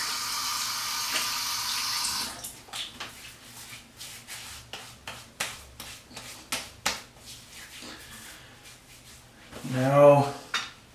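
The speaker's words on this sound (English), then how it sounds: "I can add a little bit of water." Water runs from a tap into a sink during a straight-razor shave, a hissing stream at the start followed by a series of small knocks and splashes, then a brief louder gush near the end.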